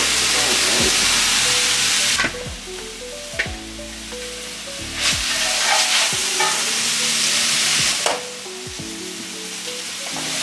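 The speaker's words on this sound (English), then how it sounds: "so hear the sizzle" Steady, loud sizzling of collard green egg rolls frying in a pan, with sharp bursts and crackles every few seconds and a faint voice murmuring underneath.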